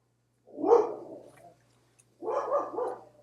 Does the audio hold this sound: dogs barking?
yes